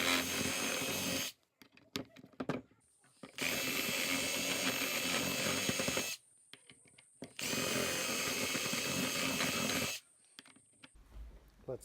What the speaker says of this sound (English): I guess I need to buy a bigger drill bit.